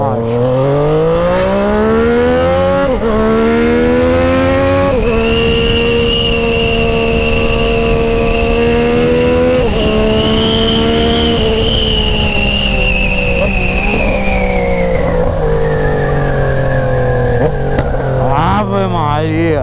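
A Yamaha MT-09 motorcycle fitted with a stainless steel exhaust accelerates hard on a test ride, its loud engine tone rising through several gear changes and dropping between shifts, with wind rush close by.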